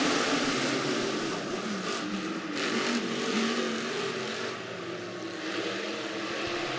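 Stock cars race on a dirt oval at Boone County Raceway at the start of a heat, their engines a continuous loud roar from the pack, a sustained droning rumble with no pauses.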